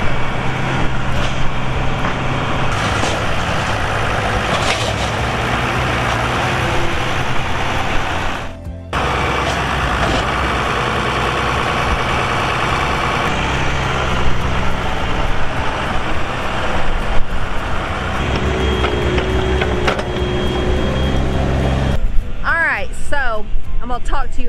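A tractor and a track hoe run on a cattle farm near a pig pen, a loud, continuous droning engine rumble throughout with a brief dip midway, and a voice talks over it.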